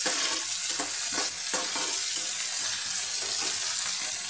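Okra (bhindi) sizzling in a hot pan with a steady, dense frying hiss and occasional stirring scrapes, close and loud, no voices.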